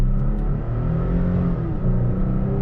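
A stock Toyota Tacoma pickup pulls hard from a standstill in a 0 to 60 run, its engine note loud and close, rising steadily in one continuous acceleration with no talk.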